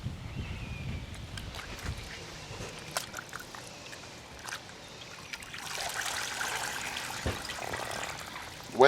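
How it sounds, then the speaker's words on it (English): A freshly slaughtered young chicken is dipped and sloshed in a tub of warm water before plucking. Soft trickles and splashing come up close, building into a louder wet swirl near the end. "Now we dip them into the warm water and get them all good and wet,"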